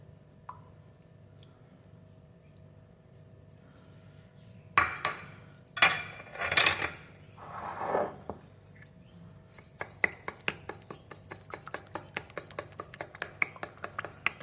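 A spoon mixes sugar, ghee and eggs for egg halwa in a bowl, first a few squelchy scrapes and clinks, then a quick steady run of rhythmic metal taps and whisking close by.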